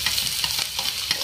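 Chopped medium-sized onions fry in hot oil in a pan, giving a loud, close, continuous sizzle with small stirring bumps throughout and no talking.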